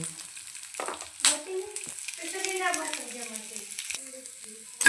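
Onions sizzling and frying in a pan for veg biryani, with a steady close crackle broken by stirring scrapes and a few sharp clatters.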